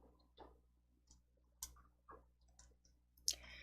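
A computer mouse clicks several times at irregular intervals, short crisp clicks close up but faint, against a quiet background.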